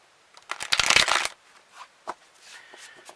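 A tarot card deck riffles in a quick, close shuffle lasting under a second, followed by a few soft taps and light card handling.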